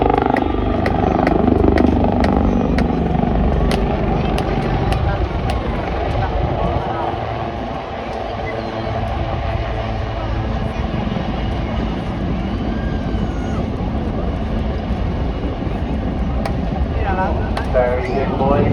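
Helicopters flying in formation perform a nose-over at the 2024 Southport Airshow. A continuous, loud rotor and engine drone fills the scene, with a commentator's voice running over it.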